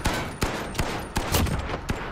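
Video game gunfire rings out in a 2v2 match, a rapid string of loud, sharp shots at uneven intervals over a busy background.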